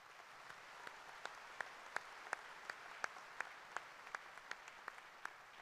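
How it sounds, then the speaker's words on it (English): An audience at a university commencement ceremony applauds, soft distant clapping spread through a large hall, with a few nearer, sharper claps standing out in a steady rhythm. "Please join me now in acknowledging them with your applause."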